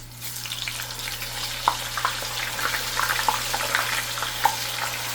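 Plantains frying in hot oil until crispy, a steady soft sizzle with scattered small pops and crackles throughout, fairly quiet and close, with no talking.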